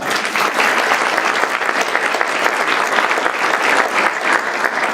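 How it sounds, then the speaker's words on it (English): An audience at a community event applauds an award presenter with loud, dense clapping from many hands, sustained without pause and with no voices rising above it. "we get a good round of applause to Villa."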